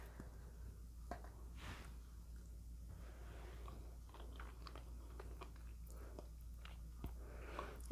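Someone eats a piece of red velvet cake, with soft, close, irregular bites and chewing over several seconds and no talking.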